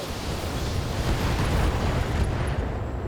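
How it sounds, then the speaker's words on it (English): A BattleTech mech unloads all its weapons at once, a dense, sustained roaring barrage of blasts and rumble that holds steady at high volume for several seconds. "Firing all weapons."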